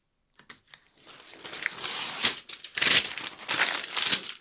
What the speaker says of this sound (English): I'm just going to keep this one in place with some double-sided tape